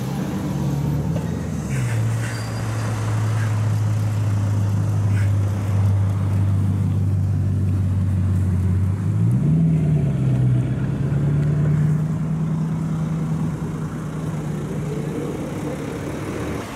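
A black Bugatti Chiron with German plates rolls in on the street, its engine holding a steady low drone, dipping lower and then rising again as it moves close by, with no talking.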